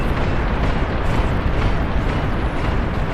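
Calamity artillery cannon in the Beyond All Reason strategy game, heard as a dense, continuous barrage of booming blasts and rumble, steady and fairly loud throughout with no talk.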